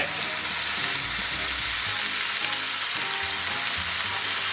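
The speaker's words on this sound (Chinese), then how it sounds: "倒糖色" Pork hock with spices sizzles steadily and loudly in a hot wok as caramel color is poured in, a dense continuous fry with no talking.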